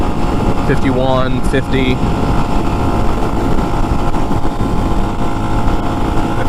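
A Lifan X-Pect motorcycle engine drones steadily while riding at around 50, a close, constant rumble with wind noise as someone talks over it.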